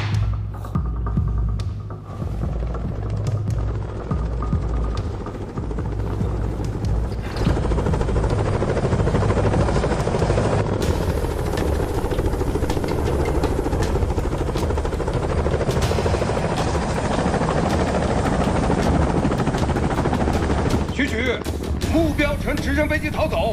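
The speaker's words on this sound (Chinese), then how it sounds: "直升飞机逃走，请求联系航空部门协助拦截。" A helicopter thrums steadily with a loud, continuous rotor throb for the whole stretch, close and heavy, rising slightly in intensity midway.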